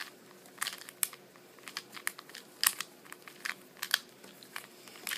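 Rapid, irregular plastic clicks and clacks come from a lubed Rubik's UFO puzzle being quickly twisted and scrambled, close up, with small bursts of turning.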